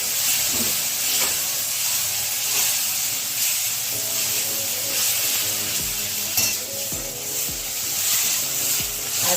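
Ginger and bay leaves sizzle in hot oil for a Bengali mixed vegetable dal, making a loud, continuous frying hiss close up, with occasional stirring scrapes and no talk.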